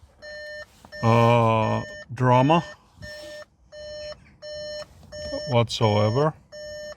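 Warning beeps from a Skoda Citigo iV electric car on a frozen cold start, a steady series of short, evenly spaced electronic tones repeating throughout while a person talks over them.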